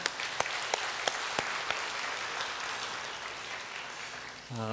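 A church congregation at a Sunday worship service applauds together, a few crisp claps at the start giving way to a dense, even wash of clapping that fades slightly near the end.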